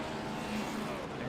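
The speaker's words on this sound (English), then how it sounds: "So it was the 5 car revving up." A Gen 6 Cup Series stock car in a sim racing game revs in low gear, giving a steady, dense engine drone with a buzzing tone that stays loud and constant through a short stretch.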